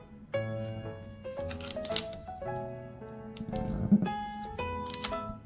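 Colored origami paper being folded into a duck, with crisp, intermittent paper rustles and creases heard close up under soft background music, no talking.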